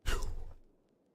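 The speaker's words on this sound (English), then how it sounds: "y'all hear this bitch breathing? I'm turning it up for a second." A character breathing in the Doki Doki Literature Club video game: a single close, airy exhale like a sigh, strongest at the start and fading out within about half a second.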